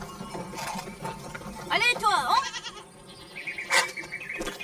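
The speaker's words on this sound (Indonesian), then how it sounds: "Anastasio menyuruh Marcos agar menghitung seluruh kambing peliharaannya dan memasukkannya ke kandang" Goats bleating near a pen in a forest setting, a couple of wavering cries rising out of a busy background with voices and other noise.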